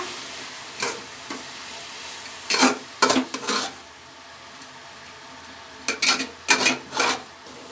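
Tomato is stirred into a millet vegetable upma in a pan, with a faint sizzle under several groups of close, rasping spoon scrapes against the metal, some single and some in quick clusters.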